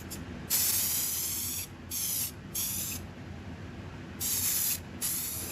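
Several bursts of 3M aerosol spray adhesive onto styrofoam, a loud steady hiss in five separate pulses with short pauses between them.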